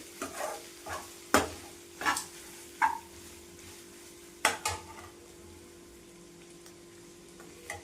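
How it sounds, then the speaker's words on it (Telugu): Spices and chillies splutter in hot oil for a spicy Telangana-style boti fry, sharp popping bursts and crackles at irregular intervals over a faint low hiss, fading toward the end, with no talking. "వీటిని వేగనిద్దాము. పేలుతున్నాయి, చూస్తున్నారు కదండి."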